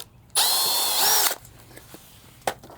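A power drill bores a small hole into the fender of an EZGO golf cart, one steady high-pitched whine lasting about a second, loud and close, then a few faint clicks and a short knock afterward.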